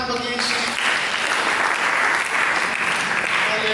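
A church congregation claps together in sustained, dense applause during a sermon. The sound stays loud and uniform after a brief tonal sound at the start, with some voices mixed in.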